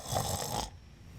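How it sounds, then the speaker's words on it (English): Minecraft snore: one breathy, rasping inhale-like rumble lasting about half a second, close and fairly loud, then fading into quiet low background. "little snore there"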